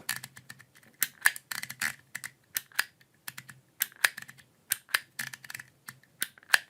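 Dymo Omega mechanical embossing label maker pressing letters into tape, a series of sharp plastic clacks and clicks at an uneven typing pace, close and clear with no talking.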